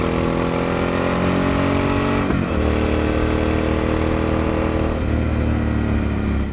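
A Triumph Speed Twin motorcycle with slip-on exhaust and decat runs steadily nearby, a throbbing twin-cylinder note with a couple of brief shifts in pitch.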